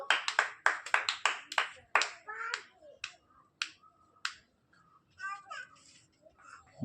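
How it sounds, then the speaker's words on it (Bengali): A small group claps rapidly in a quick burst, then a few scattered claps, at an outdoor clay-pot-breaking prize game, with people talking over the later part. "হাততালি দাও সবাই, হাততালি দাও।"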